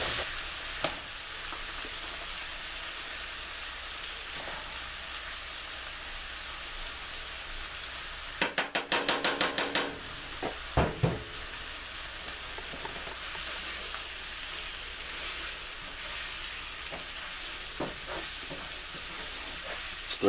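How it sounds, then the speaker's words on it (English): Cornstarch stirred into pork chop gravy in a hot pan gives a steady, continuous sizzle, broken by a short burst of scraping stirring strokes midway and a few brief clatters. "Stir this in."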